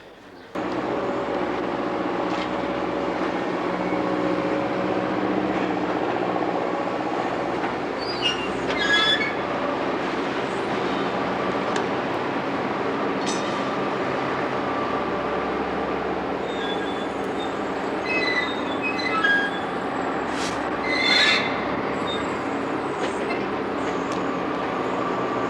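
A metro or rail train in 1970s Molenbeek, Brussels rumbles steadily nearby for the whole stretch, with intermittent metallic wheel squeals rising above the continuous roar and no talk over it.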